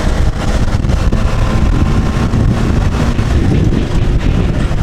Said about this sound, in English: It's noticeably quieter than the diesel engine before.